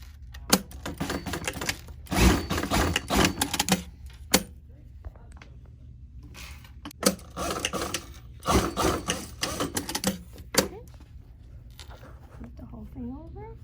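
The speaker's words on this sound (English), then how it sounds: "I'm going to go back to the machine to finish that sewing to make it stronger" A sewing machine stitches a fabric flap down over elastic, its motor running in several bursts of rapid mechanical whirring and clatter separated by short pauses.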